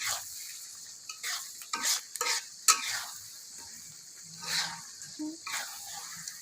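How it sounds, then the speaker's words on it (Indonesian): Spice paste for Betawi sayur godog fries in oil with a soft, steady sizzle as a utensil stirs it, giving intermittent scrapes and light clinks against the pan. "Kita aduk, kita tunggu sampai minyaknya terpisah dari bumbunya ya"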